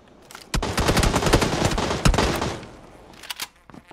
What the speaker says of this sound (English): I feel like somebody's shooting at us.